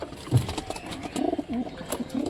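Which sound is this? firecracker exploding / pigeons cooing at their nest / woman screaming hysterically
pigeons cooing at their nest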